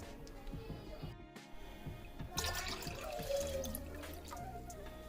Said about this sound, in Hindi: इसमें मैंने 4 गिलास के बराबर पानी डाल लिया है